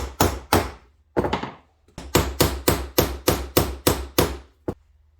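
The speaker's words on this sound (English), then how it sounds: "you're looking at my little puny little punch and like the wrong hammer" A hammer strikes a small metal leather hole punch in a string of about a dozen sharp, loud blows, a few spaced apart at first, then in a steady rhythm.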